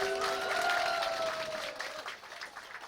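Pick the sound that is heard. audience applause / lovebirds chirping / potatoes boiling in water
audience applause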